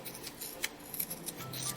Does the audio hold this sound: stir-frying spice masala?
no